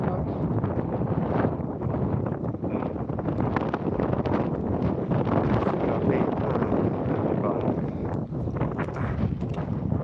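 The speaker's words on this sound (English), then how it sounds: "this is proper breezy out here" Strong wind gusting outdoors, buffeting the microphone as a steady, loud, broadband roar that continues without a break, with no talk over it.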